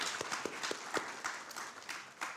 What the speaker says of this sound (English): A round of applause, please, for the Madam Chair.